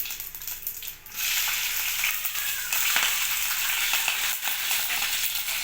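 Cumin, mustard seeds and green chilies fry in hot oil for a tomato rasam, making a loud, dense, close sizzle with crackling pops and a brief dip near the start, no voices.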